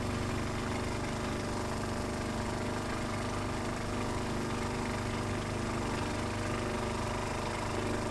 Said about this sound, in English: All right, now turn on your pump.